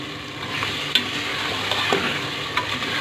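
A spoon stirs chicken curry in a hot pan, with soft scraping strokes and a few sharp clinks over a steady close sizzle, and no voices.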